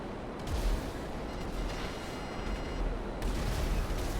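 Gunfire in the GTA V video game on console: sustained rattling fusillade with dense bursts throughout, loud and continuous, no talking.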